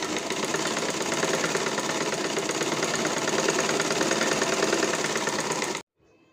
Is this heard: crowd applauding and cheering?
no